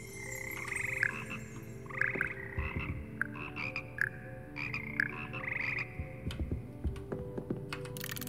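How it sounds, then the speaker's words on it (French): Slimy, melodious frogs of the Hogwarts frog choir croaking in the video game Hogwarts Legacy, a run of repeated croaks in short bursts over a low music bed, with clicking sounds scattered underneath. "C'est ici que se perchent les grenouilles gluantes et mélodieuses qui forment le cœur des grenouilles de Poudlard."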